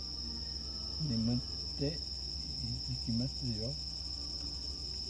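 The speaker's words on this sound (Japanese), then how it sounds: "コオロギが鳴いてます。" Autumn crickets keep up a steady high-pitched trill in the background while someone speaks quietly over it in short phrases.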